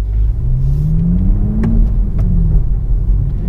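A 2023 Toyota GR Supra 3.0 with manual transmission revs up with a rising roar over a deep rumble, loud and close, then settles.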